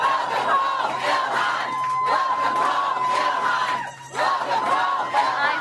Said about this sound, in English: was greeted by a cheering crowd in Minneapolis as she returned to her home district